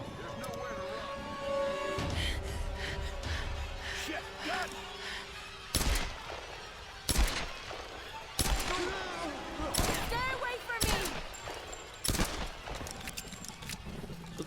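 Sharp bursts of gunfire crack out in clusters over a busy electronic soundscape in the video game Tomb Raider (2013), loud and close, with scattered shots between volleys.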